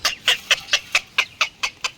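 A chicken clucks in a quick, regular series of about nine sharp calls, close and fairly loud.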